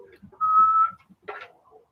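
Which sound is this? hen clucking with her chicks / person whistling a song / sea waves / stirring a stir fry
person whistling a song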